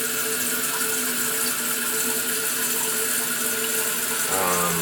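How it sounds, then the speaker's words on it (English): Toilet tank refilling after a flush, a steady rushing hiss of water close by that continues evenly, ending with a shift in tone as the fill changes. "I'm going to flush this and hopefully nothing bad happens"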